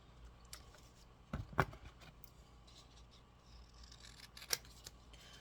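Scissors snip through guitar shielding material during a guitar build: a couple of quick, close cuts near the middle, then one sharper snip later, over a low, quiet background hum.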